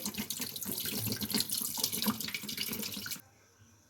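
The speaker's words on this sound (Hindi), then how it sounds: "और इसमें 2 गिलास पानी शामिल कर दें" Water pours steadily into a pot for about three seconds, a close, splashing gush that stops abruptly.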